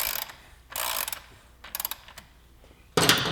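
Ratcheting bursts from a hand tool chasing corrosion out of aluminum threads on a 2008-2017 Yamaha YZF-R6 during an exhaust install, several short clicking runs separated by pauses, close and alone.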